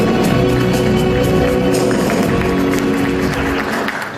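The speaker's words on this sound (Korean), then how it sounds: "자랑스러운 건축인 이기환 동문에게 다시 한번 축하의 박수를 부탁드립니다" Audience applause at an anniversary ceremony for an architecture department, a loud, steady wash of clapping lasting throughout.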